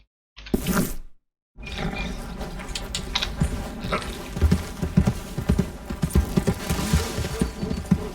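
Horse hooves clip-clopping in the video game Red Dead Redemption 2, after a short sharp burst and a brief gap, a steady run of close, fairly loud hoofbeats continues with a soft background rumble.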